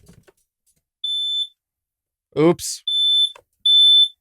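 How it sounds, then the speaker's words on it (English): A household smoke alarm goes off indoors as smoke fills the room, giving three loud, piercing electronic beeps at regular intervals. A person makes a brief remark between the beeps. "I set off the smoke alarm in the house."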